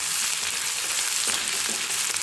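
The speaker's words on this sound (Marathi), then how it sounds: "हिरवी मिरची आणि लसूण चांगला भाजायचा अगोदर, त्याने खमंग फोडणी लागते" Green chillies and garlic frying in hot oil in a pan for a tempering: a steady, close, hissing sizzle that runs unbroken throughout.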